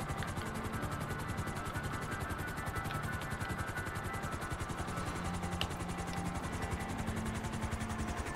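Helicopter rotor from a video game, a steady rapid chopping thrum holding at an even level throughout, with no talk over it.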